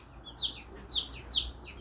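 Young broiler chickens in a farm shed give three rhythmic, high chirping calls, fairly close but soft, over a low background hum.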